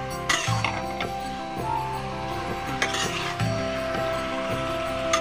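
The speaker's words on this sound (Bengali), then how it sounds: "ঘুরিয়ে ঘুরিয়ে নাড়তে হবে।" Chicken curry being stirred and fried in a pan with oil, a spoon scraping and clinking in steady repeated strokes over continuous sizzling, close and moderately loud.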